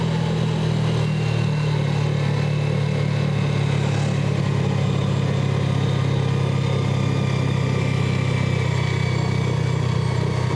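Manual Yamaha Jupiter Z motorcycle riding downhill on a mountain road, a steady low engine drone with continuous wind and road rumble, close and fairly loud, no talking.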